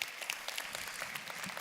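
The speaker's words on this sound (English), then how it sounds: "Yeah, you can applaud for that." A convention audience at a global company convention closing talk applauds, a faint, dense patter of many hands clapping at a distance.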